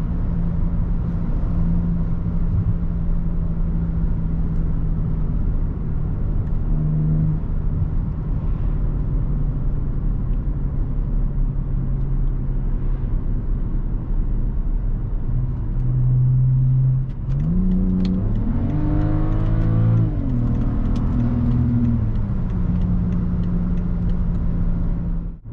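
BMW 535xi E61 wagon, tuned to about 370 hp with a JB4, cruising on an open road with a steady engine drone, then a strong rising acceleration surge near the end, heard from inside the car.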